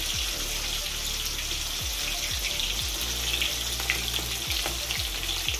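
Food frying in a pan over a low flame, a steady close sizzle with repeated low thumps and scrapes as it is moved around.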